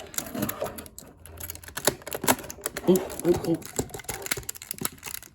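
Plastic parts of a Fans Toys FT-44 Thomas transforming figure snap and click into place in quick, close bursts of small ticks, mixed with handling rustle and a voice speaking.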